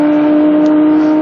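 A Porsche Cup race car at Bathurst screams past at high revs, a sustained loud, steady engine whine for just over a second, close and alone.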